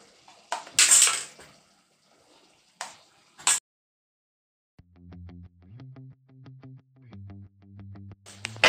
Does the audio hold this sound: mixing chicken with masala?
yes